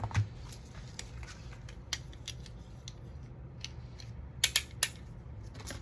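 A few sharp, close snips from a cutting tool that come in a quick cluster near the end, with scattered faint clicks before them in a quiet room.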